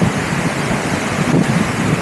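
A mountain stream in full spate after heavy rain, heard as a steady, loud broadband roar of rushing water close by, continuous and unbroken, with some wind buffeting mixed in and no voices.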